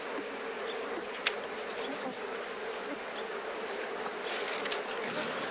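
Bees swarm at a desert spring with a dense, steady buzzing that hums continuously and evenly from start to finish, with no other sounds intruding.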